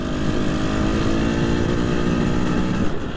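A new two-stroke motorcycle engine being run in, revving hard with a loud, steady, buzzing drone that holds close and constant throughout, with no talk.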